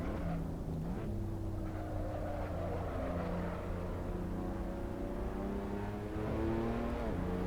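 Race car engine in a sim racing game, a steady droning hum with gear-like pitch steps, held at constant loudness throughout with a slight swell near the end, no talk over it.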